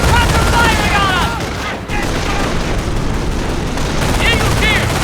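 Dense, loud rifle and machine-gun fire crackles without pause in the Company of Heroes Vierville mission of the Second World War strategy game, with soldiers' voice callouts over the shooting.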